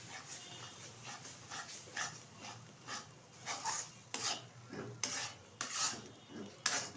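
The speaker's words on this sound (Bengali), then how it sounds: "এবার অনবরত কিন্তু নেড়ে আমি একটা ডো তৈরি করে নেব।" A spoon stirs semolina and milk into a sticky dough for sooji gulab jamun, giving repeated close scraping and sticky rubbing strokes in an irregular rhythm, fairly quiet with no talking.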